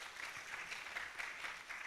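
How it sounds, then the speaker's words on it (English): Faint, steady applause from an audience at an architecture students' congress, a soft continuous patter of many hands clapping at a distance. "Clap your hands for him, please."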